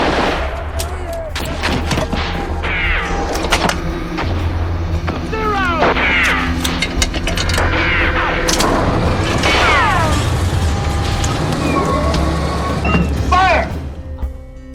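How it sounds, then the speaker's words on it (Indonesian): Bomb blasts and heavy gunfire from a war film battle scene, with loud repeated explosions and bursts of shots layered over music and sound effects, alongside scattered voices throughout. "mereka kembali dikejutkan oleh serangan bom"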